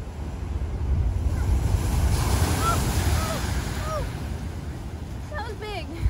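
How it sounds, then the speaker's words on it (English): Ocean waves crash against rocks with a heavy, steady wash of surf and wind across the microphone. Excited voices can be heard over the roar near the end. "Watch what happens when the waves hit the rocks."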